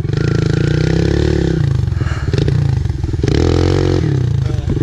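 Dirt bike engines revving loudly and continuously while drifting across a snowy lawn, the motor note rising and falling with throttle changes, close and dominant throughout.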